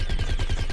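Rapid automatic gunfire in the video game Plants vs Zombies Garden Warfare, a dense, loud, close burst of fast repeating shots lasting under a second.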